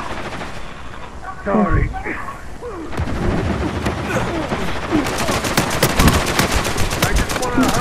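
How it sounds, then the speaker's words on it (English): Gunfire in Uncharted 4 multiplayer, with rapid overlapping shots that build into a sustained, dense volley after a quieter start, while a voice speaks briefly over it. "Oh, I'm getting shot at."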